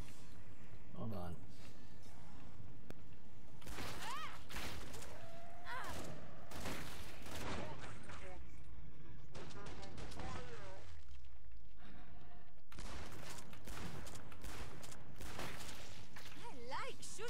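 Bursts of gunfire ring out while shooting zombies in a commando-themed video game, arriving in loud irregular volleys across the stretch, with someone talking excitedly over much of it.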